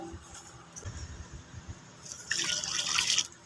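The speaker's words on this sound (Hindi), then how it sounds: "ये देखिए जी, हम डाल रहे हैं पानी" Water is poured into a mix for a multi-stone wall texture, a soft trickle that swells into a louder, bright splashing stream for about a second near the end, over low handling noise.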